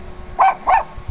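A dog gives two quick, loud barks close by during a casual badminton game, followed by quiet.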